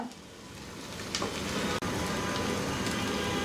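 Spices fry in a pan as coriander powder goes into a vegetable stir-fry, making a continuous hiss of sizzling oil that swells slightly, with one sharp brief interruption partway through and no speech.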